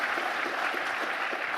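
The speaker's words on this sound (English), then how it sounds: "How about a round of applause for Christoph?" Audience applause at a tech conference session, steady broadband clapping from a crowd that holds evenly throughout without voices over it.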